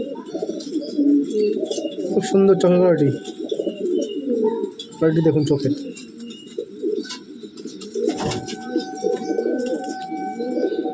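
A Lalbon pigeon pair coos in low, repeated rolling calls close by, with someone talking over them almost the whole time.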